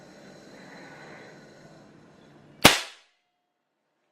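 An Air Arms PCP air rifle with a two-piece magazine fires a single sharp, loud crack after a quiet stretch of faint background hiss, the report decaying quickly into silence.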